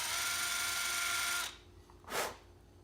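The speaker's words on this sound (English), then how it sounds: "Drill it a little bit and check it." Drill bit boring into the plastic housing of a 1973–87 Chevy/GMC tail-light, a steady high whine for about a second and a half, then a short second burst after a pause.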